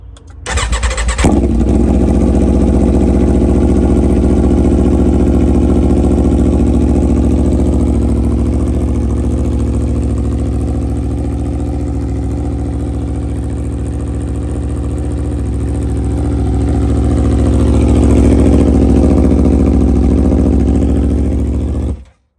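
A Chevy Silverado pickup's engine cranks and fires, then settles into a loud, deep, rumbling idle that holds steady and swells slightly toward the end before cutting off.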